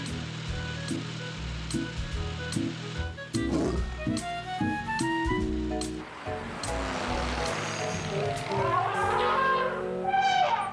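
A lion roars in a French-language children's cartoon, a loud cartoon roar mixed with bright tonal music and playful sound effects throughout.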